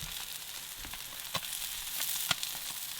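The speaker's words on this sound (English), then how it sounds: "let's flip these fish fillets" Fish fillets sizzle in a hot pan as they are flipped, a soft continuous hiss with a couple of sharper crackles and spatula taps partway through.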